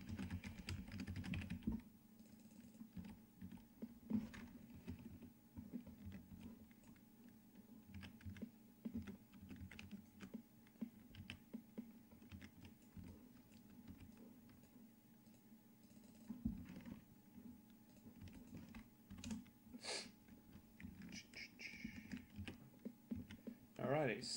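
Computer keyboard typing runs throughout as steady clusters of light clicks, soft and close, beneath a quiet voice talking.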